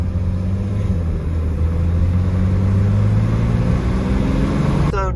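A BMW X5 diesel engine drones steadily while the SUV drives along, a low continuous rumble with a slight rise in pitch as it pulls, close and loud inside the cabin throughout.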